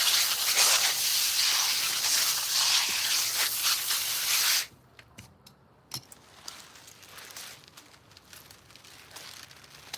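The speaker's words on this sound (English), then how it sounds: "I'm gonna give this a quick rinse." A water spray hisses steadily over freshly harvested kohlrabi for several seconds and then cuts off abruptly. Quiet handling rustles and a few faint clicks follow.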